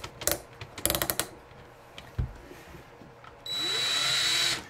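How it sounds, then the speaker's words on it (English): A power drill winds wire into an auger for a model ship build, with a few clicks and clattering handling sounds first, then a steady, close whirring spin of the drill motor to the end. "winding the wire up in the drill, I've done that before"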